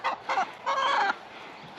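Homestead chickens on a calm, rainy day give three short clucking bursts, fairly close and moderately loud, followed by a quiet pause.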